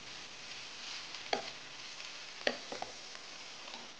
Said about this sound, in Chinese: 我们先煎一煎鸡肉。OK，把姜放下去。然后呢，我们就可以加入鸡肉了。先把鸡肉煎香。